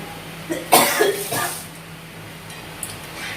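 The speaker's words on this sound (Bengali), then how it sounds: "ঝাঁঝটা চলে আসছে আর কাশি হচ্ছে" A few harsh coughs close by, a burst at first then a couple more, fading into quiet room noise with a faint clink near the end.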